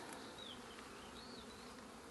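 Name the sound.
swarm of honey bees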